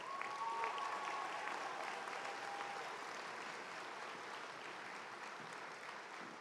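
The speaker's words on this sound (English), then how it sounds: "Let's give him a round of applause." Steady round of applause from a commencement audience for a student speaker, a soft, distant, even wash of many hands clapping that tapers slightly toward the end.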